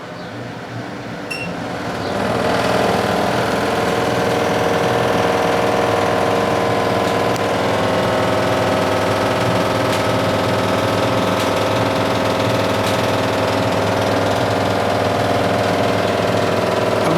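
A kitchen chimney exhaust motor starts up and runs on speed two with a steady loud hum, a rattling vibration and a faint repetitive ticking throughout.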